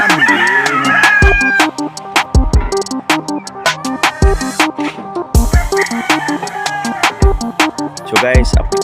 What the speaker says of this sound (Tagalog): Ito na naman ang ating mga alagang manok saka kambing.